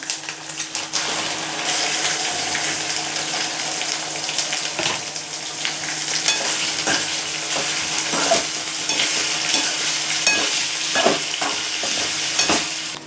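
Mutton sizzles steadily in a hot pan with oil and ginger-garlic while a spoon scrapes and stirs in irregular strokes, close and continuous.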